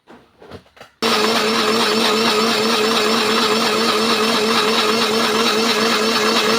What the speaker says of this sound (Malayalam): അതും കൂടെ നമുക്കൊരു 1/2 സ്പൂണ് അതിനകത്തോട്ട് ചേർത്ത് കൊടുത്തൊന്ന് അരച്ചെടുക്കാം